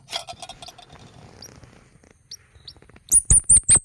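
A newborn squirrel whose eyes are not yet open gives a run of about five loud, sharp, high chirping cries in quick succession, following a stretch of quiet rustling and faint handling noise.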